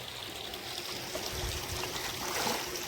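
Steady running water trickling and splashing into a container, a continuous close-up flow with no talking.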